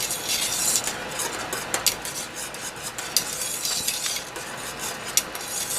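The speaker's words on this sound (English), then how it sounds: "while this is boiling, we're going to keep stirring it" Passion fruit and dragon fruit jelly mixture boils in a pot while a utensil stirs it, a steady bubbling hiss broken by repeated close scraping strokes against the pan, with no talking.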